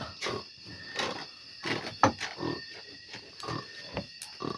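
Repeated rough, snorting grunts like a pig, about eight or nine in a steady rhythm, fairly close and moderately loud.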